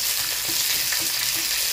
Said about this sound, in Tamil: அப்போ உள்ளி கொஞ்சம் பொரிய போடணும்.